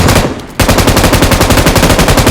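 Sustained automatic gunfire in PUBG Mobile, rapid evenly spaced shots running almost continuously after a brief quieter opening, loud and close.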